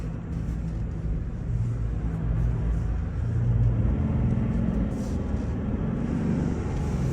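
An armored diesel Toyota Land Cruiser 300 with 302 horsepower pulls away and builds speed, a steady low engine rumble swelling slightly as it accelerates, heard from inside with road noise and no talk.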